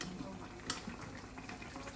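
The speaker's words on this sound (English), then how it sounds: "you can see the steamed fish is bubbling away nicely" Jamaican-style steamed fish simmers in a pot, giving a faint, steady bubbling with small pops, close by but quiet.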